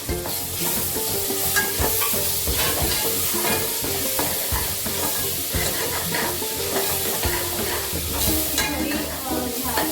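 Ginger-garlic paste fries with browned onions in a pan for pav bhaji, a loud, continuous sizzle broken by frequent scraping and stirring knocks, close up and with no talk.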